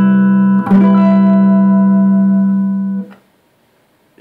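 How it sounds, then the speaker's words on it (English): Electric guitar strikes a C dominant 7 chord with a sharp attack and lets it sustain loud and steady for about two seconds before it is cut off, leaving near silence with a faint string noise. "I'm guessing it's some kind of dominant, C dominant 7"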